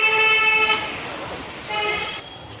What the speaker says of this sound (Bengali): এই হচ্ছে বিভূতিবাগ স্টেশন